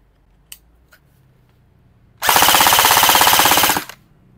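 Full-auto burst from an LCT STK-74 airsoft AK, a loud, rapid, even stream of shots lasting about a second and a half, preceded by a couple of faint clicks and followed by quiet.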